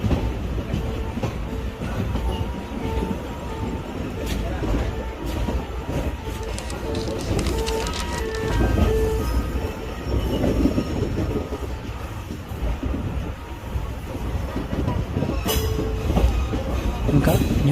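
Trains at the platforms of Vijayawada railway station, a large junction in Andhra Pradesh, rumble steadily with wheel clatter and squealing, loud and continuous, with faint station chatter in the background.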